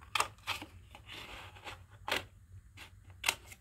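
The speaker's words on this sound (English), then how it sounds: "got out my wacky big scissors" Large craft scissors snipping through paper, a few separate crisp cuts spaced irregularly, close and fairly quiet against a low steady hum.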